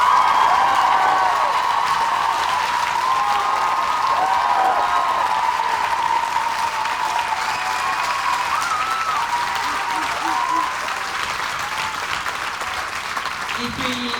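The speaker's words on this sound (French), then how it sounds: "j'aimerais qu'on applaudisse quelqu'un qui travaille dans l'ombre, comme M. Desrochers" An audience at a school show gives sustained, dense applause that holds steady for the whole stretch and tapers only slightly toward the end.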